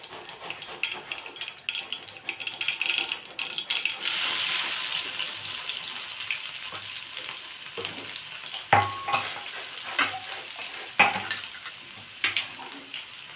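Mustard seeds and crushed garlic frying in hot oil for a tempering for a village-style mung bean amti, a steady crackling sizzle with clinking pan and utensil sounds and a few sharper pops.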